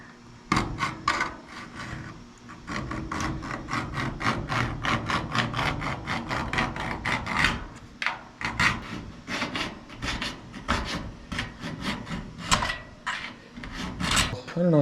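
Scribe tool scraping and tapping against the metal of a 1955 Chevy door, a close series of short sharp scratchy strokes in an uneven rhythm, fairly quiet.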